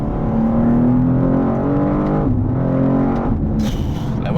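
Heard from inside the cabin, a BMW M2 G87 drives a winding road, its engine note rising steadily, stepping down at shifts and climbing again, loud and close, ending in a short burst of wind or exhaust noise.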